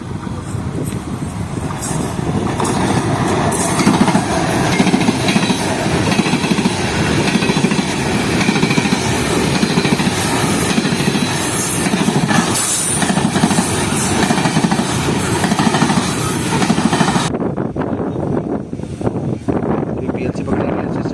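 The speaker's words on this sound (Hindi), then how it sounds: "तो दोस्तों रहमान बाबा के जाने के बाद एक अदद मालगाड़ी आ रही है।" A freight train rolls through Dabheji railway station, a loud, continuous rumble with clattering wagons and rail noise close by for about twenty seconds, easing slightly near the end.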